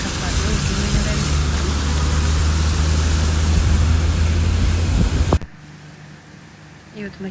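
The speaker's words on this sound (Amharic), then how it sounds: "ነፋሳል ከባድ ነው።" Strong wind blowing through a residential neighbourhood during a rainstorm, a loud broad roaring rush that cuts off abruptly near the end, leaving only faint background sound.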